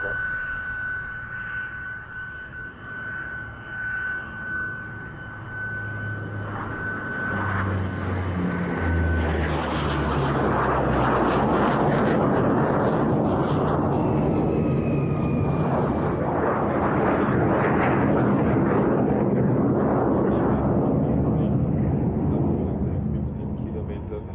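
Military jets flying in formation behind a C-130 at a Scottish airshow, making a loud, sustained roaring overflight that builds and lingers, with a commentator talking over it.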